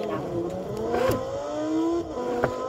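Car engine from the Forza racing video game, a steady mid-pitched drone with rising and falling revs over about three seconds, playing continuously without any talk.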